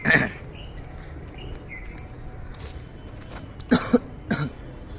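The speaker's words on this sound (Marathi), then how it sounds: "खोकला एवढा जास्त येत आहे ना काय माहिती" A few short, sharp coughs, one at the start and a cluster near the end, with quiet background and faint bird chirps.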